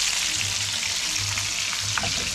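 Meat croquettes frying in a pan, a dense, even hiss of hot oil close up, steady and loud throughout with a faint low hum beneath and no talk.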